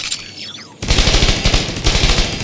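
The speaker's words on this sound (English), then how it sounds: "So I'm going to throw out my turret first, just to show you the normal damage." Turret thrown out in the game Tiny Tina's Wonderlands-style Artificer build opens rapid machine-gun fire after a brief mechanical whir, a loud continuous stream of close shots.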